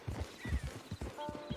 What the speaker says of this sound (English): Just get on the horse when you're good and ready, okay?